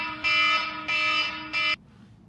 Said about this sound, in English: I was like, why do I have that alarm set?